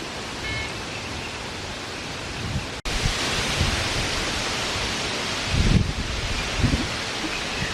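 Steady wind rushes and buffets outdoors, rustling foliage with occasional stronger gusts, loud and close to the microphone.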